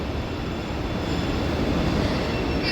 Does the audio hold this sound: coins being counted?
no